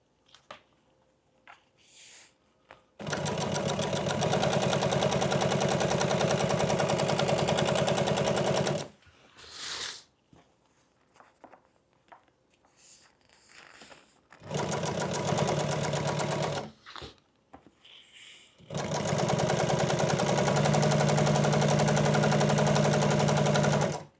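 A sewing machine stitches welt onto old-school boat cushion upholstery in three loud, steady runs, each several seconds long, with quiet pauses between them.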